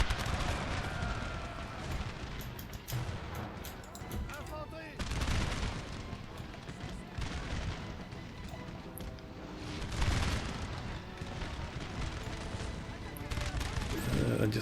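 Musket volley fire in Napoleon: Total War (Darthmod) during a battle in the Italian campaign: dense, overlapping crackling shots that swell into heavy bursts about every five seconds, loud and continuous, with faint voices underneath.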